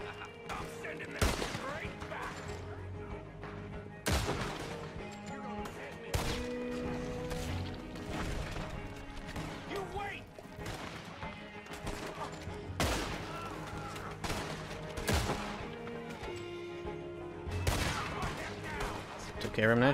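Rifle gunfire in Red Dead Redemption 2: several loud, sharp in-game shots spaced a few seconds apart over game ambience, with a player talking over the action.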